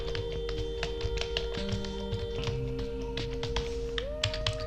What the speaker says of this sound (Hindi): तो यहाँ पर जाके आप कीबोर्ड से एंटर की को प्रेस करेंगे